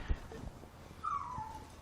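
A dog whimpers softly near the microphone, giving a thin, rising whine in the second half of the short moment, with faint room noise and low rumble underneath and no clear talk.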